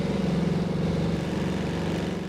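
Car engine droning steadily in a low gear in the Forza Horizon 4 racing game, a continuous low throbbing hum with a rapid pulsing rhythm, moderately loud and even, with no voices.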